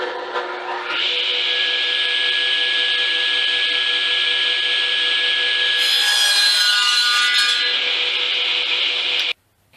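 A power saw cuts through a wooden board for the base of a tabletop guillotine, with a loud, steady whine throughout and a brief rise in pitch near the end before it stops abruptly.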